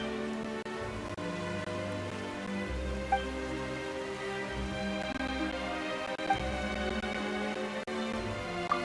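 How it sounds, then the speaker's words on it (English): Steady rain pattering on surfaces in the Genshin Impact video game, a continuous wash of drops under a layer of sustained musical tones, with a few faint clicks and no voices. "Why is it raining?"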